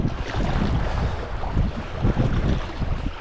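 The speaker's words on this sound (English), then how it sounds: "hopefully you should be sheltered by the wind because it's blowing right into my back" Gusty wind buffets a microphone on a rocky sea coast at low tide, a loud, rumbling, uneven roar with no voices.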